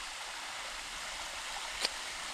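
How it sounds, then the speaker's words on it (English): A small creek runs through a wooded Arkansas holler, giving a steady, even wash of flowing water from start to finish, with one brief splash or tick near the end and no voices. "it's a cute little creek"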